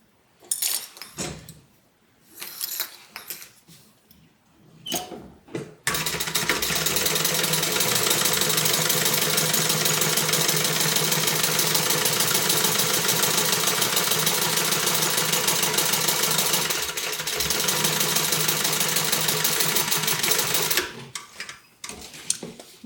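A sewing machine stitches a tote bag seam in a long, steady, loud run of about fifteen seconds, preceded by short handling clicks and bursts and ending with more brief noises.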